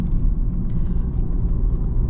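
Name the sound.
Audi S3 8V saloon engine while driving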